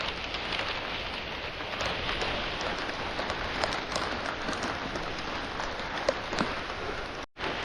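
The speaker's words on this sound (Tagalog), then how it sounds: "Lakas ang ulan." Heavy rain pours during a typhoon, a dense, loud, unbroken hiss of drops hammering surfaces, with no pause and occasional sharper splashes.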